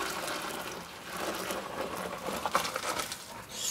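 Hot pasta water is poured from a pot into a colander in the sink, a steady, close gushing splash with bubbling patter that holds for several seconds, quiet and without voices.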